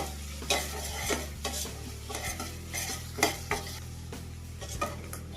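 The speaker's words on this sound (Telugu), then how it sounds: "పసుపు మిర్చి వేగాక" Green chillies and turmeric fry in oil in a pan, a close, continuous sizzle punctuated by repeated scraping and stirring strokes of a utensil against the metal.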